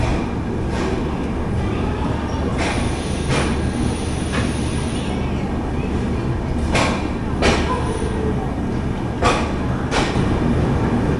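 Train at Chennai Central platform: a steady heavy rumble of rail noise, broken by sharp intermittent clanks and metallic squeals, loud and continuous with no talk.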